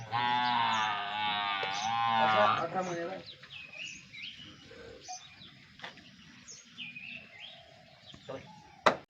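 A Gavlao cow moos in a long, loud, drawn-out call near a calf on a farm, then fades into quieter background with scattered bird chirps and faint voices.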